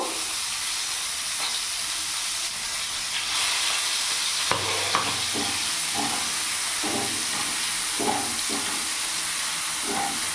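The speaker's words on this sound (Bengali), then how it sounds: "ওই তেলের মধ্যে এখানে পেঁয়াজ কুচনো দিয়ে দেবো।" Chopped onion fries in oil in a pan for boal fish kalia, giving a steady close sizzling hiss throughout, with soft stirring knocks breaking in during the second half and no voices.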